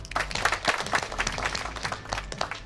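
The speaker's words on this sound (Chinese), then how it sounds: "鼓掌！" A small group claps in a Chinese hair salon after a staff announcement, steady patter of hands lasting a few seconds, moderately close with a low room hum underneath.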